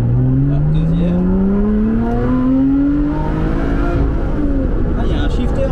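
A Lotus Exige 410 Sport revs up loudly from inside the car, the engine note climbing steadily before a quick shift into second gear and renewed acceleration, with voices talking over it.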